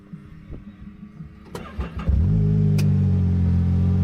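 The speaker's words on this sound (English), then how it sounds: "So, we're going to start the car." A Ford Maverick R engine cranks with a short starter whir, then catches and settles into a loud, steady idle rumble close by, after a few quiet clicks and handling noises.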